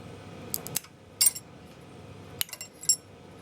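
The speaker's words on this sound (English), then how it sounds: "If I sort of gently encourage this crack to propagate." Scored glass breaking along its score line as the crack is gently encouraged, using a shop-made drill press glass cutter, gives several faint, sharp ticks and snaps spaced over a few quiet seconds.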